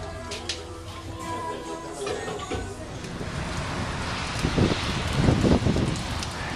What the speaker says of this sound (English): As you can see, it started raining